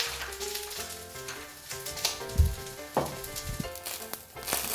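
Eggs cooking in a hot pan give a quiet, close sizzle with soft stirring and scraping, with no voices and with a faint musical bed in the background.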